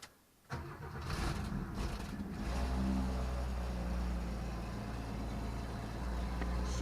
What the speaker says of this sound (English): that exhaust sounds horrible